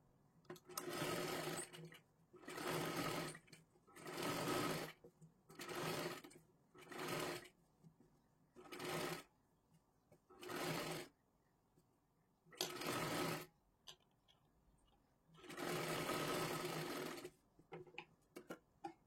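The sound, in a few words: sewing machine stitching a blouse neckline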